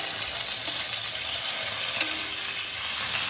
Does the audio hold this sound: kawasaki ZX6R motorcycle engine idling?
no